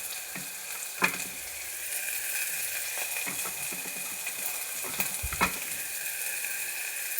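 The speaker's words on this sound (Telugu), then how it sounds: "ఉల్లిపాయ ముక్కలు వేస్తున్నానండి" Onion pieces fry in a pan for a black gram and brinjal curry, a soft steady sizzle with occasional sharp clinks and scrapes of a spoon against the pan, and no talking.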